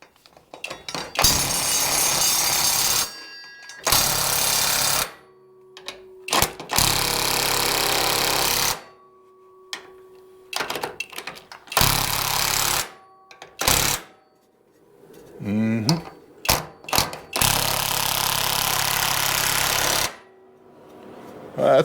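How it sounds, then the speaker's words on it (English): An impact driver sinks screws into a wooden 2x4 truss or joist, firing in several loud, rattling bursts of a few seconds each, separated by short pauses, with brief talk between runs. "we're going to do exactly that and use an impact driver"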